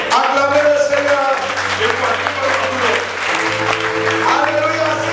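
Applause rises from a church congregation at a Sunday service as they acclaim the Lord, sustained clapping mixed with voices and what sounds like music, loud and steady throughout.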